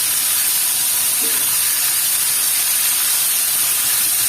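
Pork drops into a pan of toasted garlic, onion and pepper for Filipino adobo, giving a steady loud hiss of frying that runs evenly throughout.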